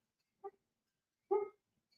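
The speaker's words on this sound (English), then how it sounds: "that's Bonte out there barking" A dog barks outside, two separate barks from a short way off, the second louder and longer, with quiet gaps between them.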